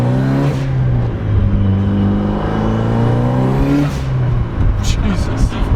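A Mitsubishi Evo IX engine revs gently under light throttle, its steady note climbing and settling back, close and continuous for several seconds.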